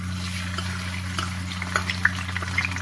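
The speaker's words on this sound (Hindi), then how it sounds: "सूजी डाल दूंगी" Soaked semolina goes into hot sugar syrup infused with cardamom for makhandi halwa, giving a continuous close bubbling and sizzling with small scattered pops, steady and without talk.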